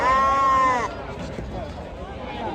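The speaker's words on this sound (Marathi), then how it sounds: "आता आलो आपण चाकणच्या बकरी बाजारामध्ये. प्रत्येक वेळेस ज्या भागामध्ये आपण मेंढ्या पाहतो" At the Chakan livestock market, a single loud, wavering bleat from a nearby sheep or goat rings out at the start, followed by the background murmur of the crowded market and people talking.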